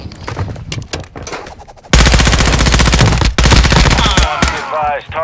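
Loud, sustained automatic gunfire in the DMZ video game, bursts of rapid shots rattling close by after a quieter stretch, continuing almost without pause to the end.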